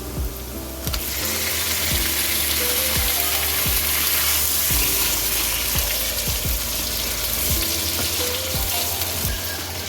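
Chicken sizzling loudly in a pan with sliced onions as chicken dal gosht cooks, a dense continuous crackle broken by regular scraping knocks of a spoon against the pan.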